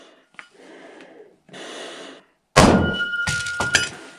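A Cold Steel pole axe of 1055 carbon steel strikes in a destruction test, landing as a loud, sharp thunk with a crash after quieter breathy sounds and shuffling.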